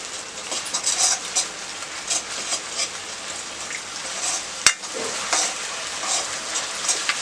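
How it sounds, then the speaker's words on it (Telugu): Cabbage manchurian with ketchup and vinegar sizzling in a pan over high flame, a steady broadband hiss with occasional stirring scrapes and one sharp clack near the middle, no talking. "అంతా కూడా హై ఫ్లేమ్లో ఫ్రై చేసుకోవాలండి"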